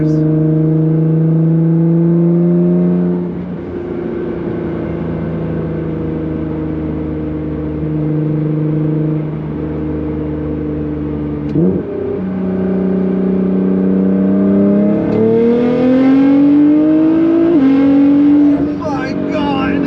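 Nissan GT-R engine pulling hard under acceleration, loud rising revs climbing through gear changes with tire and wind noise, while people in the car talk excitedly over it.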